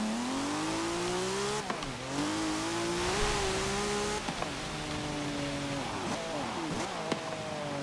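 Race car engine in Forza Motorsport 7 during a prototype group race, a steady loud drone rising and falling in pitch as it shifts and revs, with brief tire squeal as the low-slung car slides.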